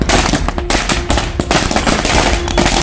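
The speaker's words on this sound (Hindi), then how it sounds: "खुशी में कार्यकर्ता छोड़ रहे हैं पटाखे" Firecrackers burst in a loud, continuous rapid crackle as JDU party workers celebrate a Bihar assembly election victory at their office in Khajuri panchayat, Rohtas block, with dense popping, close and unbroken throughout.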